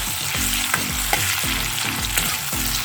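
Onions fry in a pan while a utensil stirs them in steady, repeated scrapes over a continuous close sizzle, with no talking.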